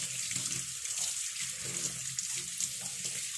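Tap water running steadily into a kitchen sink while chicken pieces are washed, a constant close splashing hiss with no speech.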